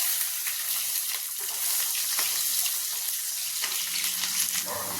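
Garlic sizzles in hot oil with popped mustard seeds for a curry leaves pickle, a steady bright hiss of frying that holds evenly throughout with faint stirring and no talk.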